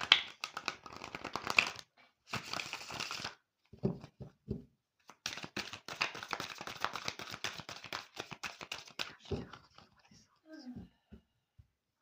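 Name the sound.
shuffling and cutting tarot cards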